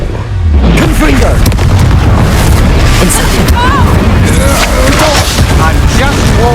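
Confringo fire spells blast repeatedly during combat in the Hogwarts Legacy video game, a loud, continuous barrage of booming explosions with rumbling impacts and creature shrieks throughout.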